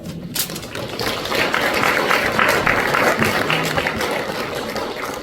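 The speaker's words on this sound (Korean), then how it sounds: "우리 나오실 때 환영하는 의미로 박수로 환영하겠습니다" Congregation at a Korean Christian national prayer service applauds to welcome a pastor to the pulpit, a dense, sustained wash of clapping from a large crowd lasting several seconds.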